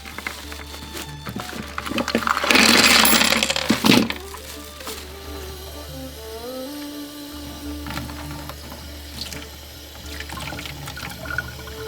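A small bird bathes in a water dish: water splashes and sprinkles in a quick burst, then quiets to faint drips and small movements against a low steady hum.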